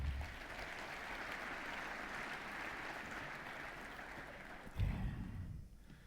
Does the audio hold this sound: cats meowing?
no